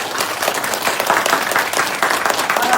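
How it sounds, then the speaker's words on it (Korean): A Sunday worship congregation at a Korean church claps together in warm, continuous applause, many hands blending into a steady, full-bodied patter from start to finish. "다시 한번 하나님 영광의 박수를 드리겠습니다."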